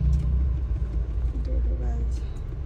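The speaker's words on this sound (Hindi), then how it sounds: "ट्रैफिक भी काफी है।" Road traffic near a hospital in a busy area, a steady rumble of passing cars and vehicles with engine drone filling the background while people talk over it.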